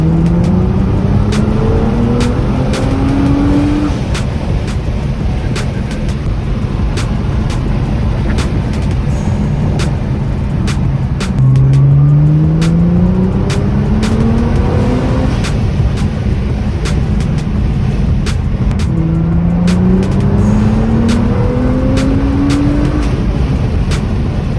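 A Nissan GT-R R35 with a GFB blow-off valve pulls hard from inside the cabin, its engine note rising in repeated sweeping climbs, punctuated by sharp clicks and whooshes between surges over a steady loud drone, no talking.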